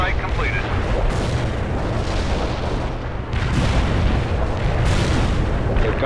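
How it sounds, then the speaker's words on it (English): Napalm strike explosions from World in Conflict form a loud, continuous rumbling roar of fire and blasts, with surges swelling around the middle and end. "Napalm strike completed"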